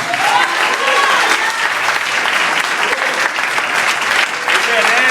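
Church congregation clapping in praise during an evangelical service, loud dense applause filling the room continuously and evenly throughout, with faint voices mixed into the crowd.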